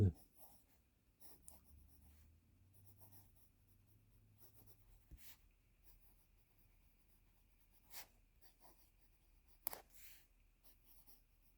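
A vintage Waterman fountain pen fitted with a modern, heavily tipped nib scratches softly across paper in short strokes with brief pauses, close and quiet, with a few louder taps and rustles between the strokes.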